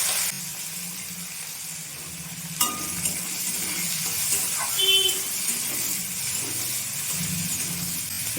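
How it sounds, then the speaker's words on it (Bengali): Whole cumin seeds and chopped onion hit hot oil in a heated kadhai for Bengali aloo dum, giving a steady close sizzle and hiss with a sharp crackle as they drop in and occasional faint clinks. "তেল গরম হয়ে গেছে, গোটা জিরে দিয়ে দেব, দিয়ে দেব পেঁয়াজ কুচি।"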